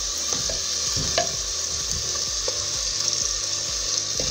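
Ground ají mirasol chili paste, about three large spoonfuls, frying in a pan for ají de gallina, a steady close sizzle with repeated soft stirring scrapes throughout and no voices.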